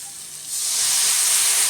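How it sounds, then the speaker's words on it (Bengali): A sharp hiss swells up and holds as water is poured into hot spiced oil in a pan for a hilsa and eggplant curry, a steady steaming sizzle with no voices. "তো মশলা তেল ছাড়া আরম্ভ করে দিয়েছে তো এবার একটু আমি জল দিয়ে দেব"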